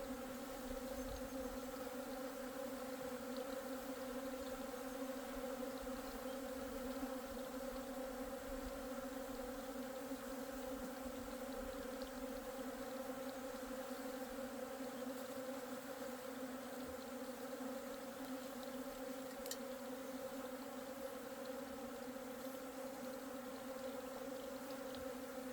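Hornets swarm around a honey-scented trap at a beehive, producing a continuous, faint droning buzz that stays even and unbroken throughout.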